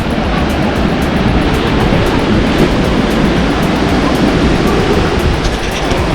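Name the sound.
sea waves in Bali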